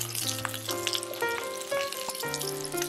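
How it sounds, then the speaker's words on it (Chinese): Pan-fried pork spare ribs are stir-fried with scallion pieces and ginger slices, giving a soft steady sizzle with light scraping stirs beneath background music, with no talking. "翻炒几下，炒出香味"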